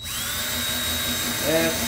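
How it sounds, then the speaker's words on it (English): A power drill bores into wood near a knot, its motor whining steadily close by, then rising in pitch near the end. "drill down in there so that when I'm coming into the other wall, I won't split it out"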